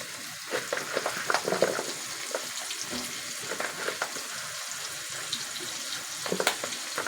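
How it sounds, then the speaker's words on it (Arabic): Onions frying in oil, heard as a soft, fairly faint sizzle with scattered crackles and occasional stirring. There is a watery, tap-like quality and a few louder bursts. "دلوقتي بعد ما شلنا البتنجان هنحمر البصل زي ما حضرتك شايفين كده"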